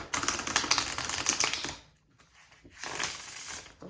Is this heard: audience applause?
no